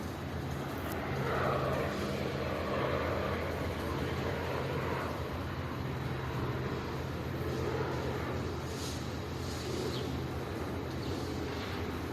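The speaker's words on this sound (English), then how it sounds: "That is the amplified sound of the same helicopter over Union Station." Steady, continuous rotor drone of a helicopter overhead at Union Station, amplified, broad and rumbling with a low thrum, holding constant for the whole stretch with no talk.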